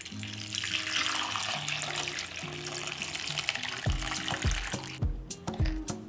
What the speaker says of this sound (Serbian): 2 limuna spustit ću u činiju i prelit ću sa mlakom vodom